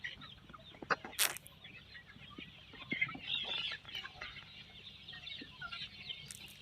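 Local chickens on a thousand-bird poultry farm cluck and call intermittently against a steady low farmyard hum, with a few sharper, louder squawks early on and softer clucking throughout.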